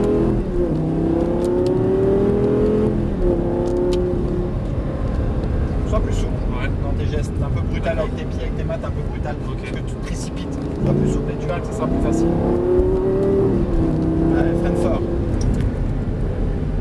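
From inside, a Lamborghini Gallardo LP 560's engine droning climbs in pitch as the car accelerates to overtake on the road, eases, then rises again, under constant road and wind roar.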